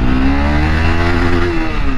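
A Honda CBR 250 engine holds a loud, steady drone while pulling hard in first gear, its pitch gently rising and sagging, recorded up close with no speech.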